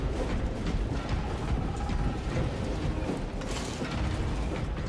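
Elevator machinery in the Space Marine 2 video game grinds and creaks in a steady mechanical rumble with ratcheting clanks, continuous and fairly loud throughout, no voices.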